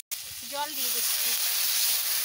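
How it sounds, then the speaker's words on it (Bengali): Water hits a hot pan of bitter gourd curry and bursts into a loud, sudden sizzle that settles into a steady hiss, following a brief voice at the start. "জল দিয়ে দিচ্ছি।"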